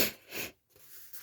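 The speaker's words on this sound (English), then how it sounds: "I've still got this cold, got sniffles" Nasal sniffling from someone with a cold, a pair of breathy snuffs close to the microphone, each quick and moderately loud, in a quiet indoor craft setting with no speech.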